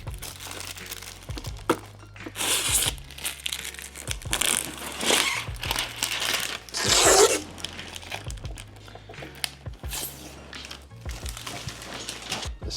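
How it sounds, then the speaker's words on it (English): Protective plastic film peels off a new robotic pool cleaner during an unboxing, with close, steady crinkling and tearing punctuated by sharp crackles and faint handling knocks. "I'm gonna peel off this plastic."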